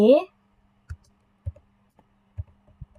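Keys on a computer keyboard are tapped in a few sparse, separate clicks while typing a command, quiet and close, after a brief spoken word at the start.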